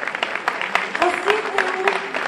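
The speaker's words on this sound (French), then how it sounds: "Justine et Faustine, que vous applaudissez très très fort" A gala audience claps in quick, scattered bursts, moderately close, with voices talking and calling out over the applause.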